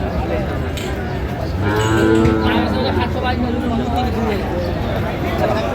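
Sahiwal cattle mooing in long, low calls, several overlapping, amid a bustling crowd murmur of an outdoor cattle market in Comilla, Bangladesh.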